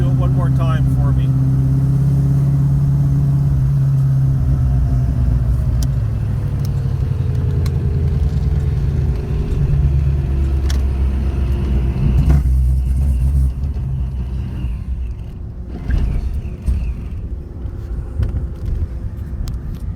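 A 1986 Ford Mustang Fox body engine running rough with an ignition fault, a loud close rumble that sags and stumbles as revs drop, with a voice talking over the sound.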